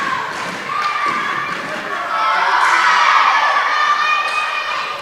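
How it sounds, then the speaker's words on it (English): A crowd of girls cheers loudly after an ace at a middle school district volleyball match between Summertown and Culleoka, a sustained shouting roar that swells midway and holds to the end. "Another weird ace cheer from the girls."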